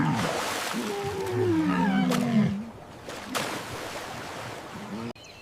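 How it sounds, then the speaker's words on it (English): A walrus vocalizes in low, drawn-out groaning calls with a gliding, bellowing pitch, loud and near over a wash of water and ambient noise, with a couple of sharp knocks between calls. "It's a walrus."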